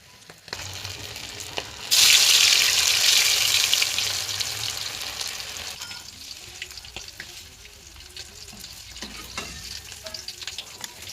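Cauliflower pieces cut into fish shapes fry in a pan, a loud hissing sizzle that swells suddenly and then eases into a steady, softer crackle, with a few faint clinks and no talking.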